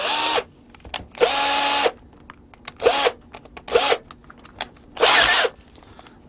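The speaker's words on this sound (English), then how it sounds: "I'm going to use a countersink tool that you can get in the hardware store and a drill" Electric drill fitted with a countersink bit deburring a sharp edge, five short bursts of whirring with motor pitch rising and falling as it spins up and stops, quiet gaps in between.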